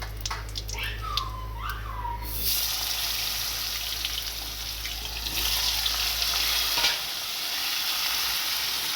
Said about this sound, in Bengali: গরম তেলে জিরে ফোড়ন দিয়ে নেব